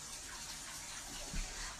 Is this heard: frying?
no